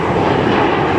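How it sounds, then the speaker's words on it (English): Fixed-wing airplane taking off overhead near a Los Angeles drain sub-basin construction site, a loud, steady engine roar filling the whole moment without any break. "we have another one taken off over there"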